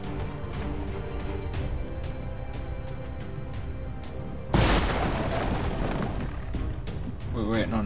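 Low rumbling ambience and scattered taps, then a sudden loud explosion booms and rolls on with crackling debris, followed by a brief warbling tone, from the video game XCOM 2.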